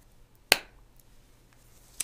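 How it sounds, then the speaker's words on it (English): Two sharp hand claps about a second and a half apart, close and loud for an audio sync test, with a quiet room in between and no talking. "let's do a clap test"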